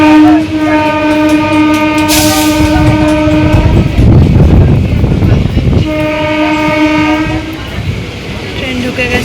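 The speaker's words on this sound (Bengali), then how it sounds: "ট্রেন ঢুকে গেছে শিমুরালি।" A train arrives at Shimurali station, sounding two long loud horn blasts separated by heavy rumbling and rattling of the cars as they roll in close by.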